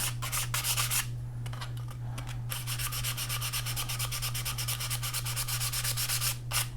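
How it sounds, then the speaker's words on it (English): A cardboard body tube for an Estes Multi-Roc model rocket is scuffed by hand, making rapid back-and-forth rubbing strokes, close and steady, with a short pause partway through and no talking. "you want to scuff up the cardboard, but not so much that you erase the lines"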